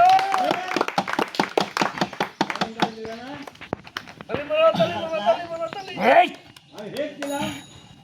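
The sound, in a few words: crowd clapping hands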